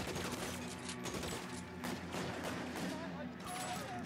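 Gunfire in the video game L.A. Noire, a burst of shots over a dense game soundscape with background score, while a player talks over it.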